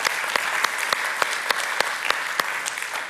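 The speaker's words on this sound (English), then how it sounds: "A round of applause once again for our keynote speakers." An audience at an academic year opening event applauds keynote speakers, a close, full burst of clapping with a few louder individual claps cutting through.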